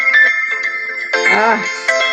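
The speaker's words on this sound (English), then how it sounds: "My phone's ringing." A mobile phone rings indoors, its bright electronic ringtone tones repeating clearly and fairly loud, with a louder warbling stretch partway through the melody.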